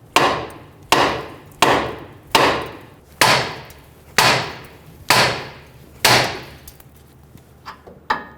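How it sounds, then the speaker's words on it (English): A hammer strikes the outer tie rod on a 2003-2008 Honda Pilot to knock it loose from the steering knuckle. About eight loud, ringing metal blows land at a regular pace, followed by a few lighter taps. "Using a hammer, we're going to hit in this area to release the corrosion or the tension on the outer tie rod and release it from the knuckle."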